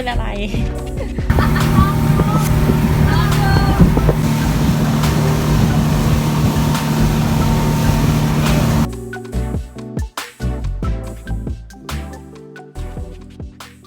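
Speedboat carrying a group out from shore in Thailand, a loud steady engine drone with wind and water rush for several seconds, then the motor cuts and gives way to quieter knocks and movement.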